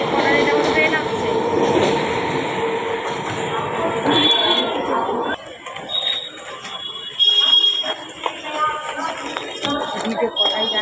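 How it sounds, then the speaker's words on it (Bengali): Train pulling into a station, a loud rumbling approach with a high electronic tone and horn-like whine, then quieter clatter and squeals as it slows, with people talking in the background. "এটা আমার ট্রেন আসছে।"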